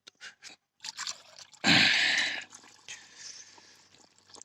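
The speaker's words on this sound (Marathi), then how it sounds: "आता आपण पाणी टाकून पूर्ण भरून घेत आहोत" Water is poured into a container to top up a pesticide spray mixture for controlling caterpillars, a brief rushing splash after some light clinks and handling noises, followed by softer trickling and small liquid sounds.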